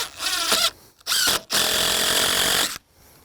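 A power drill drives deck screws into wood in three loud whirring bursts, the first and third longer, separated by brief pauses, the last burst stopping abruptly before a quiet tail.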